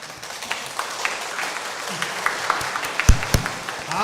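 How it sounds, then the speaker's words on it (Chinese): A church congregation claps to welcome a new member, moderately loud and steady with a few sharper, distinct claps and thumps near the end. "我们教会一起给他掌声"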